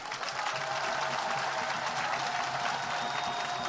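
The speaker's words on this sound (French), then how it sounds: "il faut vous applaudir." A political rally crowd in Côte d'Ivoire applauds continuously, a dense, steady wash of many hands clapping at moderate distance, sustained throughout without pause.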